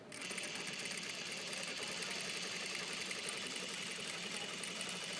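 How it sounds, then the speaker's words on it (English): A sewing machine stitches a 3/8 pin tuck through two layers of fabric, a steady, close, rapid mechanical chatter running continuously without talk. "Now this is to make a 3/8 size pin tuck, so you're going to sew on your line."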